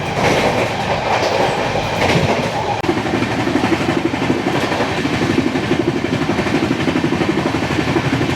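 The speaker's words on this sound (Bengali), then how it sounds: "ফ্ল্যাট হুইলের আওয়াজটা শোনো, এবার আওয়াজটা পাল্টে গেছে, কাটা কাটা কাটা কাটা কাটা কাটা কাটা করছে পুরো।" The 12882 Puri Shalimar Garib Rath Express runs at high speed, heard from inside the coach, where a flat wheel beats out a loud, steady, rapid clatter over the continuous rumble of the rails.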